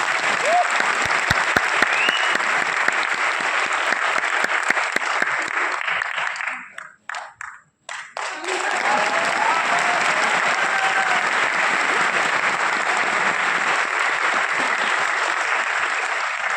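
A large audience claps in sustained, dense applause that cuts out briefly midway, then resumes just as loud and continuous until the end.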